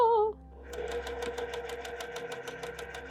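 A sewing machine running while quilting, heard as a rapid, even mechanical stitching rattle that starts after a brief voice and continues close and steady.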